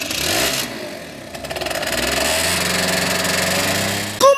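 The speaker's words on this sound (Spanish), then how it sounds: "Es mi pequeño pero veloz amigo, la motocicleta" A small, fast motorcycle engine revs and buzzes steadily nearby, its pitch climbing as it accelerates and holding a loud droning note, heard alone without talk.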